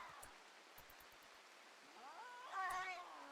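Cats meowing in the video game RimWorld: a drawn-out, wavering meow rises near the end after a stretch of low background noise, with a few soft thumps early on.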